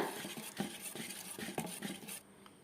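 Batter for an eggless Nutella bake is whisked smooth in a bowl, a soft, rhythmic scraping and swishing repeated in quick even strokes, quiet and close with no talking.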